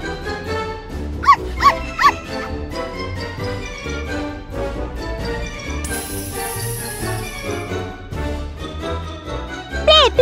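An animated dog gives a few short yipping barks and whimpers over constant background music, with another whiny cry near the end.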